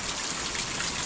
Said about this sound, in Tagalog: Ito at umuulan-ulan na nga